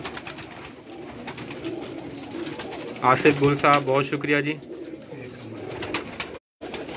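Pigeons on a rooftop in Karachi give a burst of close, rolling coos midway, under and between a man's speech, with a brief dropout near the end.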